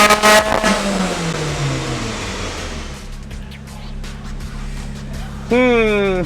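A supercharged Mazda Miata engine revving on a dyno with an ignition stumble: a strong rev that sags into a rough, uneven drone, then sweeps sharply back up near the end, with people talking over it.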